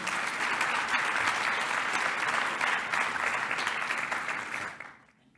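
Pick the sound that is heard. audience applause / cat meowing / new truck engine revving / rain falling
audience applause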